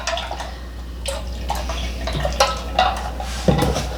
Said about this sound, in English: you want to add a little more milk because we really want it cooled down